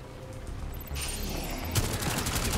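Rapid bursts of video game gunfire from Rainbow Six Extraction crackle continuously, with a sharper volley about halfway through, all fairly loud with no voices.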